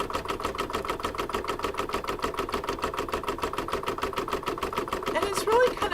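An embroidery machine stitches out an apple design on a fabric coaster, giving a steady, fast, rhythmic needle chatter that runs the whole time at close range, with a brief scraping change near the end.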